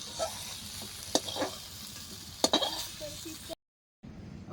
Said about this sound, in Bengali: বেগুনটা লাল করে ভেজে নেবো